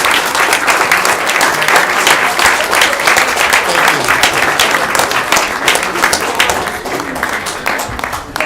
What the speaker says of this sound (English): A huge round of applause for our law enforcement and healthcare professionals.